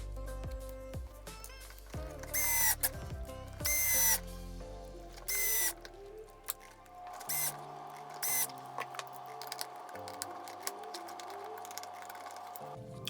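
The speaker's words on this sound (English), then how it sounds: "I'm going to use the electric screwdriver to get it partially in" An electric screwdriver drives countersunk screws into a Slash 4x4 LCG RC car chassis, with several loud whirring bursts of a few seconds each, separated by pauses and small clicks of handling, close by and with no talking.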